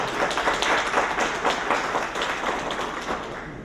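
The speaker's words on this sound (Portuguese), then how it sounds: "Por favor, Elizabeth, uma salva de palmas para ela." An audience claps for a speaker being introduced at a round-table panel, a brief burst of many hands with individual claps audible, moderately loud and tapering off at the end.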